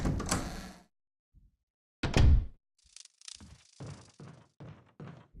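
A door opens in the Resident Evil remake on PS4, giving a heavy thunk and creak that stands alone in near silence, followed by scattered footsteps and soft game sounds.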